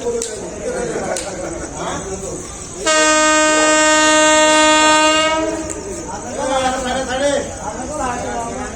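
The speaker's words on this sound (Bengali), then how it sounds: "নাসিরাবাদ এক্সপ্রেস ওরফে ময়মনসিংহ এক্সপ্রেস চিনকি আস্তানা রেলওয়ে স্টেশন প্রবেশ করছে" The Nasirabad (Mymensingh) Express pulls into Chinki Astana railway station in Bangladesh, sounding a loud, sustained horn blast for a few seconds amid rumbling wheels and clatter, with people talking nearby before and after the horn.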